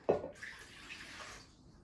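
Warm water is poured into a mixing bowl for bread dough, a brief close splash followed by a soft, fading trickle lasting just over a second.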